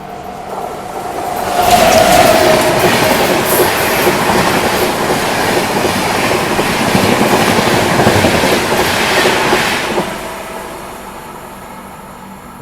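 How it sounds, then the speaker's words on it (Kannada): A Jan Shatabdi Express passing and overtaking a Tiruchirapalli Hamsafar Express at about 130 km/h, a loud rushing roar with rapid clickety-clack of wheels that builds quickly, holds for several seconds, then fades as the train moves away. "Jan Shatabdi express overtake ಮಾಡೋದೈತಿ Tiruchirappalli Humsafar ಎಕ್ಸ್ಪ್ರೆಸ್ನ"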